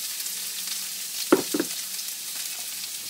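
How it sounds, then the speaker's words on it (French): Ginger, onion and carrot sautéing in coconut oil in a pan for a vegetable and mung bean noodle stir-fry, a soft steady sizzle with a couple of brief stirring knocks midway. "Vous faites sauter un petit peu, vous attendez que ça fonde un peu"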